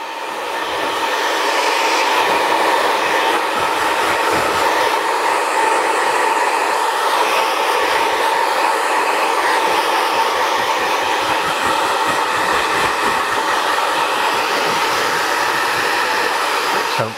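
A hair dryer blasts at high speed on high heat during a short men's haircut, producing a loud, steady, close whoosh that holds unbroken for the whole stretch with no talking.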